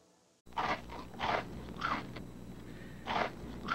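Kix corn ball cereal is crunched in several loud, close bursts of chewing spaced about half a second apart, each crisp and gritty, with no one speaking.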